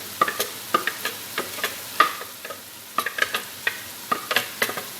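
Chopped garlic sizzles in a pan while cooking an okra and chicken stew, with a steady soft fry broken by repeated sharp clicks and scrapes of stirring.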